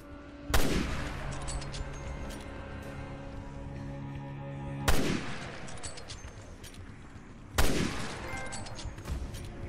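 Gunfire in Resident Evil Revelations 2, three loud, sharp shots spaced a few seconds apart, each ringing out with a long echoing tail.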